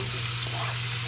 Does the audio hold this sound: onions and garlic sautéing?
yes